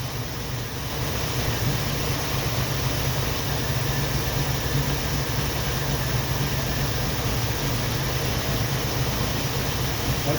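A 1990 Jeep Wrangler engine idles steadily, a continuous low rumble with broadband hiss that stays constant throughout, heard alone with no voices.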